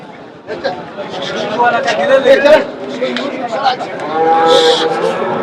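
Calf mooing at Chakan's Saturday bullock market, its lowing voice rising over a steady crowd babble and nearby talk, with a strong call near the end amid the bustle.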